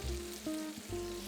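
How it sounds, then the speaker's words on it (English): Aromatic vegetables sautéing in rendered pork fat from lardons, a faint low sizzle with a couple of soft stirring shifts, quiet and brief with no talk. "Once we have a generous amount of rendered fat, the aromatic vegetables, they go in."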